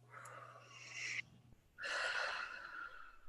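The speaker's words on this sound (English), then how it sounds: "Just take a little breath on that." A person draws a couple of breaths during a hands-on energy-healing session, each a breathy rush of air, close and fairly soft, with a short pause between them.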